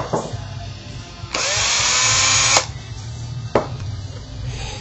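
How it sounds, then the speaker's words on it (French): A power drill fitted with a polisher and brusher adapter whirs in a loud steady burst of about a second, with shorter bursts and low mechanical hum around it, no talking. "Il suffit d'avoir une perceuse."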